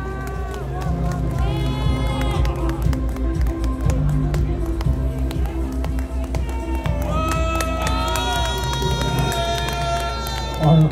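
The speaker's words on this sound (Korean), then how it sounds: "다시 한번 박수 부탁드립니다." A large crowd at an outdoor political rally in front of a party headquarters claps and cheers steadily, with dense continuous applause under loud background music and amplified voices.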